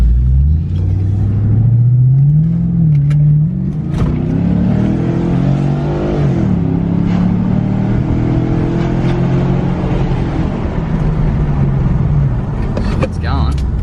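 A car engine rumbles loudly close by, its exhaust rising and falling through repeated revs, with voices talking over the steady growl.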